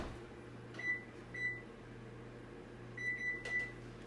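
An oven in a home kitchen is set with five short, high electronic beeps: two spaced apart, then a quick run of three, over a low, steady appliance hum.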